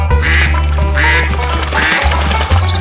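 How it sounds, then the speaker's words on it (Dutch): A duck quacks loudly and close, three or four harsh nasal quacks in a steady rhythm, heard alone with no talking. "Het dier op de puzzel is een eend."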